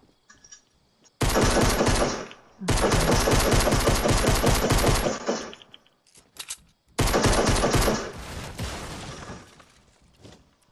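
Rapid bursts of automatic gunfire from a retro-style multiplayer shooter game, loud and sustained in three long volleys with brief pauses between, the last trailing off into scattered shots.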